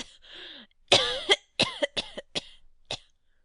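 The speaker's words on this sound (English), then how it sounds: "How long have you had that cough?" A dry, hacking cough from a sickly man in damp catacombs, a quick cluster of harsh bursts followed by several separate rasping coughs spaced unevenly, close and fairly loud against silence.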